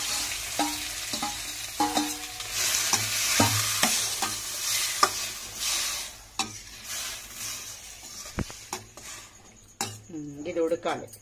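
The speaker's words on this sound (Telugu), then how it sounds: "ఇప్పుడు టమాటా వేసుకుందాం" Tomatoes fry and sizzle in a pan for tomato pickle while a spoon stirs and scrapes against the metal, giving steady frying noise with frequent clinks and knocks up close.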